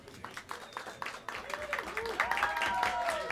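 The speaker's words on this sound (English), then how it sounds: "Have a round of applause for him." Jazz club crowd at Smalls claps for the drummer, light scattered applause building slightly with a few voices and cheers mixed in, fairly quiet and close-miked.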